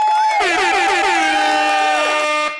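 An air horn blares as a loud, long sting with a rising pitch and sustained tone, backed by applause and cheering until it cuts off abruptly.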